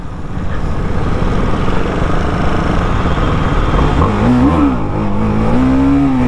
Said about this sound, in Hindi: यहाँ पर एक व्हीली हो जाए क्या